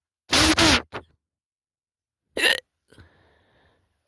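Someone has a run of hiccups: loud, close, abrupt gulping bursts, a tight pair followed by a smaller one, then another after a pause, separated by silence, with a faint trailing breath at the end.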